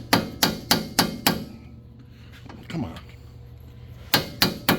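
Sharp hammer blows land in a quick run of five, then a pause with a brief spoken remark, followed by three more strikes, during fuel system and brake work on a Thunderbird.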